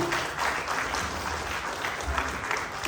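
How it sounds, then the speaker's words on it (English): Audience applause after a dance performance at a community event, a short, steady round of clapping from a crowd, even and moderately loud throughout. "Another round of applause."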